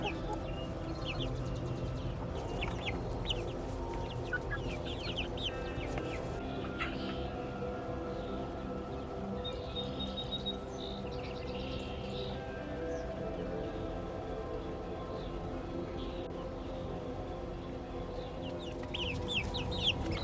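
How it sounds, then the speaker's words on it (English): A rooster and hens cluck continuously in a backyard coop in the morning, with overlapping busy calls close by and no talk. "the rooster would like to come out. So let's go let the chickens out next."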